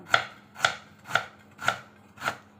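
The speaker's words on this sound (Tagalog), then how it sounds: "Hiwain ko lang ang ating luya." Five evenly spaced knife chops through fresh ginger on a cutting board, each a crisp close thud about half a second apart, with no talking.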